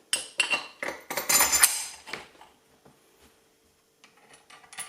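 Metal washers, nuts and a threaded bar clink and rattle as they are handled up close, a flurry of sharp metallic knocks that fades into quiet with a few light taps near the end.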